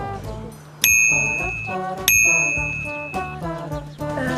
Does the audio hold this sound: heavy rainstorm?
no